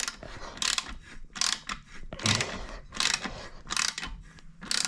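A ratchet clicks in repeated bursts while loosening a stiff bolt on a Honda Grom SP exhaust, each short back-and-forth stroke giving a crisp, close ratcheting chatter.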